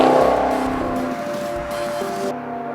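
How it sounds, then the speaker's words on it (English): A nearby 2013 Maserati GranTurismo Sport V8 engine revs and burbles, with its pitch rising and dropping through a few short bursts before cutting off. "It has this sort of typical V8 burble, but it really cleans up."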